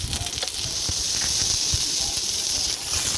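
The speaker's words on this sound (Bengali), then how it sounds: "কড়ার মধ্যে আমি তেল দিয়ে দিলাম দিয়ে মাছ ভেজে নিচ্ছি" Fish frying in hot oil in a wok, a continuous loud sizzling hiss with a few faint pops and taps underneath.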